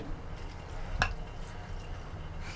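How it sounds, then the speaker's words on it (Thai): Marinade liquid poured over raw pork in a bowl, a short wet splash about midway through over a quiet background of faint dripping and handling noise, with no talk. "เทน้ำที่เราเป็นส่วนผสมลงไปได้เลย"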